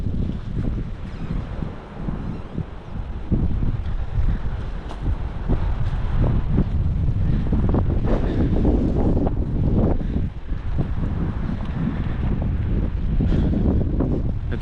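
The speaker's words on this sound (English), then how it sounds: "As you can see, it is pretty windy out here right now." Sustained strong wind during an Ohio Valley windstorm buffets the microphone with continuous loud roaring and gusty surges throughout, no voices present.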